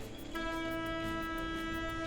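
General emergency alarm at a plant with LPG and condensate terminals, a steady harmonic horn tone starting abruptly and holding loud over a noisy background.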